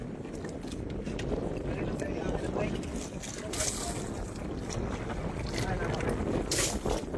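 Wind buffets the microphone over the rumble of a boat on open water, gusting in waves with occasional voices underneath.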